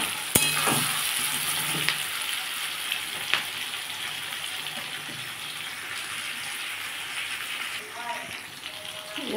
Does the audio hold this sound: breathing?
no